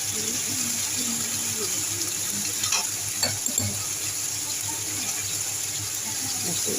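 Water splashed into potatoes frying with spices in a pan, a continuous sizzle with bubbling and a few stirring scrapes, moderately loud and without talk.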